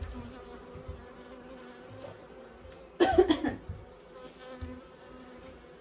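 Bees buzzing steadily around an open hive during a backyard hive inspection, a soft continuous drone with a brief louder rustle and a cough-like burst midway, a single spoken word heard.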